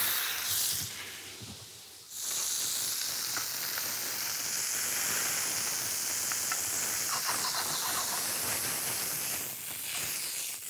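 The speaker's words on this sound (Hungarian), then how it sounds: "Mindig nagyon-nagyon ügyelek arra, hogy forró serpenyőbe pirítsem a hamburgert" A pork hamburger patty fries in a hot pan, giving a loud continuous sizzle that drops briefly, then resumes strongly and stays steady with crackling pops.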